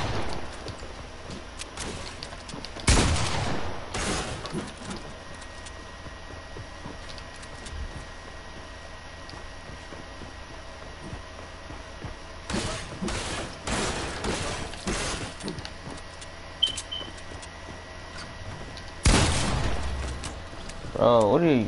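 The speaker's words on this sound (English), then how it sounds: "Why are you shooting me, man?" Video game gunfire erupts in loud, close bursts of rapid shots, separated by quieter stretches of steady background noise.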